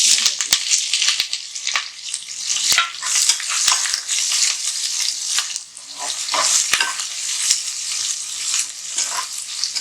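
Onion and green chilli fry in a pan for a simple chicken curry, a bright close sizzle with repeated sharp scrapes and stirring clicks of a spoon against the pan.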